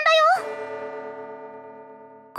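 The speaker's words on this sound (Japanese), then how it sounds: "あれ、真夜中に鐘の音が。" A clock tower bell in the game Cat Fantasy strikes once at midnight, loud and close, then rings out in a long, slowly fading hum that is heard alone.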